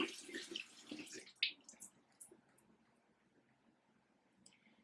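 Skincare device rinsed under running tap water, a close splashing and dripping burst at the start that fades into scattered faint drips and quiet trickles.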